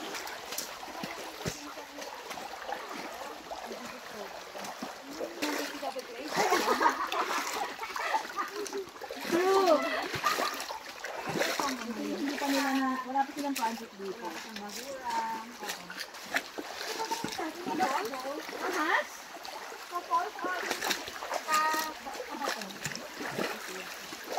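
River water splashes and trickles near Binakuan Falls on a rainy mountain hike, a constant close wash of water with people talking over it throughout.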